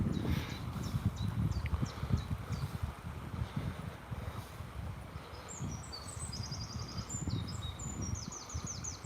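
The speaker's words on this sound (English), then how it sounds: "I like hearing blackbirds in the morning." A blackbird sings in the morning outdoors, short bright whistled phrases coming from a distance, with low rumbling background noise and occasional rustling.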